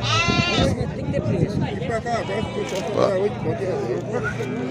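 Goats bleating amid the crowd at a Sunday livestock fair in Vila Jerimum, Pernambuco, with several loud nearby calls at the start under continuous chatter and people talking throughout.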